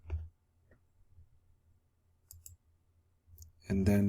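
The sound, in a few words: computer mouse clicking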